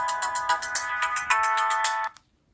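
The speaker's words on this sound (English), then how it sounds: "Let's see if we have any classic Motorola ringtones." A bright electronic ringtone from a 2006 Motorola W315 phone plays a quick repeating melody of beeping tones for about two seconds, then cuts off into silence.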